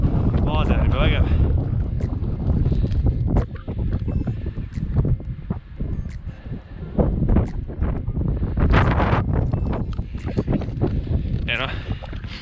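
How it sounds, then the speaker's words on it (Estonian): Strong wind buffets a microphone near a Scottish hilltop, a loud continuous rumbling roar with gusty surges throughout while a person speaks over it. "Siin on päris tuuline."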